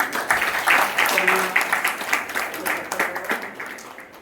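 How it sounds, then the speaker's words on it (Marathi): An audience claps at a farmers' award ceremony held by a Krishi Vigyan Kendra in Jalna as a young farmer receives an honour, a sustained round of applause that gradually tapers off. "आपण सर्वांनी टाळ्या वाजवून"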